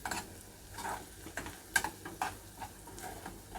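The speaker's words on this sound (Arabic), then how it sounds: "هنفضل نقلب دي كده" Potato cubes, chicken liver and gizzards frying in a pan are stirred, with soft scraping strokes and occasional light clinks of utensil on metal over a faint, steady sizzle.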